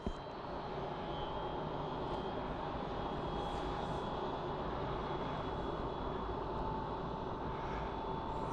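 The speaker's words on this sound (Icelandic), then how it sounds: "Hann er þyrla." A model helicopter flies over a lake, giving a steady, continuous engine and rotor drone that holds at an even level throughout, with a faint whine running above it and no talking.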